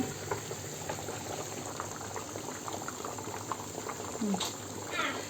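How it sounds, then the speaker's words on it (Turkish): Menemen, a tomato and pepper stew, bubbling steadily in a pot on the stove during winter canning prep, a continuous soft simmer with scattered pops and a faint clink near the end, no talking. "Burada da menemeni pişiyor."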